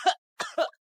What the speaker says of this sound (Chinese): 忍不住张嘴咳嗽